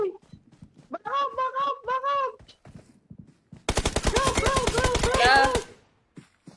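Rapid automatic gunfire from a PUBG Mobile match, a dense burst of shots lasting about two seconds, with people talking over the game before and after it.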